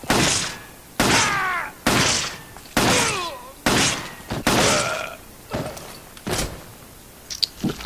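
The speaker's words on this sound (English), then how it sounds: "let's test the Heckler Koch P8 on a standard Magini" Heckler Koch P8 handgun shots in Resident Evil 5, a string of about seven sharp, loud bursts at roughly one-second intervals, each followed by a short ringing tail, with quieter clicks near the end.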